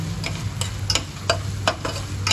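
Garlic fries in oil in a kawali for chicken caldereta, with a steady low sizzle and a run of sharp, evenly spaced ticks and taps of a utensil against the pan, close and clear.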